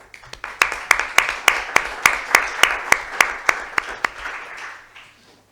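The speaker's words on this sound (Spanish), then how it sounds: "un aplauso" Audience at a poetry magazine presentation at the Ateneo de Jerez applauding, a few scattered claps first, then sharp, evenly spaced rhythmic clapping that fades out near the end.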